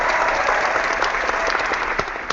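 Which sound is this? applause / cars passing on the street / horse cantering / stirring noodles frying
applause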